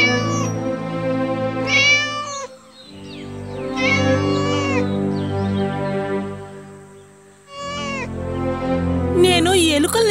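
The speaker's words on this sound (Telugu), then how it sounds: "ఇంటి యజమాని మిట్టి పిల్లిని తీసుకెళ్లి చాలా దూరంగా వదిలేశాడు." A cat meows several times in a children's story, the drawn-out, pitched cries standing out clearly, with a short pause midway before the calls resume.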